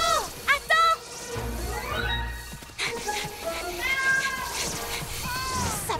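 A cartoon kitten stuck high in a tree gives a run of high, wavering meows, some short and some drawn out, over animated background sound and music.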